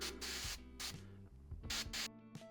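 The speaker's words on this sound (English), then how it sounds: "I'm not spraying as much paint, and I'm not able to blend as much." An airbrush sprays acrylic paint onto a model vehicle in short hissing bursts of air, close up and fairly quiet, with faint background hum between the bursts.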